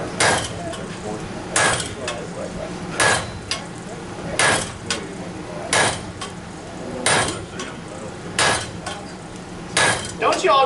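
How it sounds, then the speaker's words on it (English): At a blacksmith conference, a power hammer pounds hot steel in evenly spaced bursts of heavy metallic blows, each burst ringing out over crowd noise and scattered voices in the background. "Don't you all just love power hammers?"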